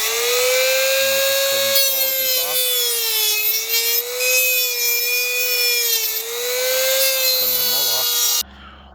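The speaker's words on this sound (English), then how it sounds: "I am using a Dremel tool to cut all these here." A Dremel rotary tool cuts through parts while a 2007 Chevrolet Avalanche front passenger speaker is replaced, giving a loud, steady high-pitched whine that dips slightly under load throughout and stops abruptly near the end.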